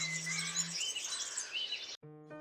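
Songbirds sing and chirp steadily in a dense, bright chorus of overlapping high twitters, fairly close, ending abruptly with a brief tonal chime.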